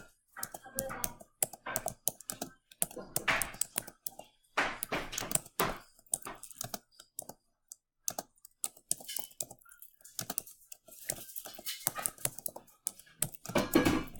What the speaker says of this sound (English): let's say I would type